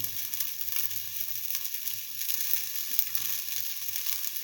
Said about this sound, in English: let the shallots fry for some time